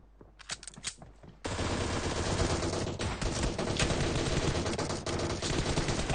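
Rapid automatic gunfire in a mobile shooter team deathmatch, with a few scattered shots followed by loud, continuous bursts that fill the rest of the clip.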